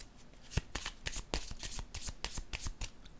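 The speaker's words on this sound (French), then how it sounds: "Je vais piger une autre carte." Tarot cards are shuffled by hand before a card is drawn, a close, quiet run of rapid riffling flutters and slaps, with no talking.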